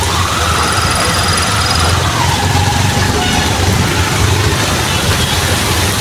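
Heavy pre-monsoon storm rain pours steadily onto a city street beside metro construction pillars, a loud, constant broadband hiss with low traffic rumble underneath and no break for the full length.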